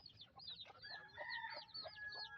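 Darag native chickens cluck and call nearby, with overlapping squawks and a short crow-like cry amid barnyard sounds.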